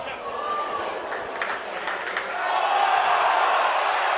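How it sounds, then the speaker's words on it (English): A rugby league crowd at Odsal roars and appeals for a penalty in bright sunshine, a broad swelling shout that grows louder toward the end, with a commentator speaking over it. "Crowd want a penalty."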